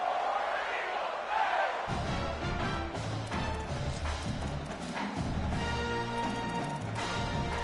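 A roaring crowd fills a hostile college football stadium during a Cal game, with a dense, continuous wash of cheering and chanting that stays loud throughout, swelling in places.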